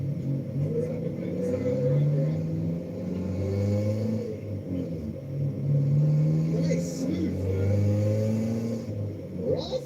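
A left-hand-drive car engine with a modified exhaust rumbles deeply and surges through repeated throttle swells, a throaty exhaust droning close by with a voice talking over it.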